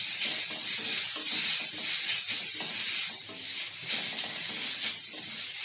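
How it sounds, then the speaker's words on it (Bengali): Carrots and other vegetables fry in a pan over a low gas flame, giving a soft, steady sizzle and hiss with faint stirring scrapes, close and fairly quiet, and no talking. "এই গাজরটা সেদ্ধ হওয়া পর্যন্ত এইভাবে গ্যাসের ফ্লেমটাকে কমিয়ে আমি নাড়াচাড়া করে সব কিছু ভেজে নেব।"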